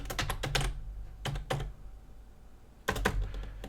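Keystrokes on a computer keyboard as a password is entered, in three quick bursts of clicking separated by short pauses, close and clear with no talking.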